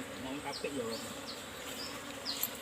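Bees buzzing around a honeycomb nest being harvested, a steady insect drone with brief higher buzzes as individuals fly close, moderately loud throughout.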